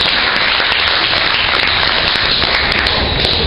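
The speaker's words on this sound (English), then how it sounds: "Let's give her a big round of applause." An audience at a hypnosis stage show applauds, dense and loud clapping filling the room evenly for a few seconds with no speech.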